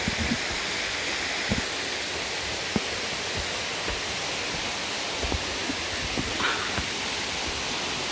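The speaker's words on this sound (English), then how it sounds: "Oh, I like to hear the water." Water rushing steadily along a mountain creek on a bush walk, a constant broad wash that stays close and fairly loud throughout, with a few faint knocks and rustles on top.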